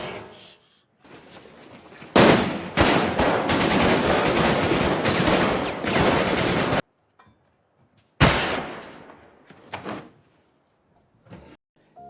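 Nazi soldiers' gunfire in the film The Pianist comes as a loud sustained volley for several seconds, cuts abruptly to silence, then returns in a shorter burst with a few scattered trailing shots.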